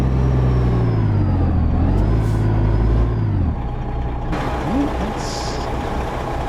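A truck in American Truck Simulator idles and maneuvers with a deep, steady engine drone that drops in pitch midway, followed by a brief air-brake hiss and mechanical noises.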